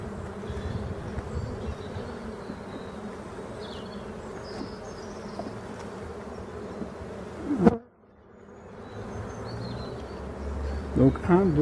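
Honey bees in an open hive, colony number 6, hum in a steady, dense drone close by, with one abrupt drop to near silence partway through before the buzzing swells back.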